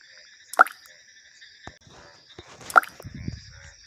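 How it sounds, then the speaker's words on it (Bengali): Water drips drop by drop in a quiet room, two distinct plinking drops a couple of seconds apart with faint small sounds between them. "হঠাৎ ফোঁটা ফোঁটা পানি পড়ার শব্দে করিমের ঘুম ভেঙে গেল।"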